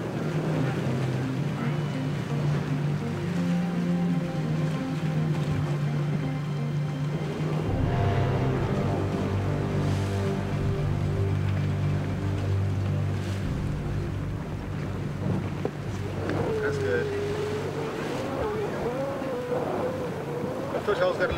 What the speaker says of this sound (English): the wind takes more of a hold